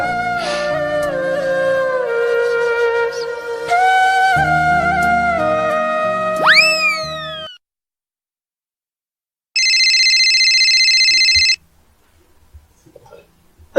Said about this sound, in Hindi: काकर फोन आते रे भाई, अतका रात निकाल के